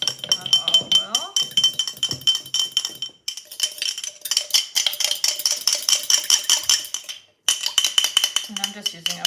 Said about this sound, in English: I'm just using a fork to whisk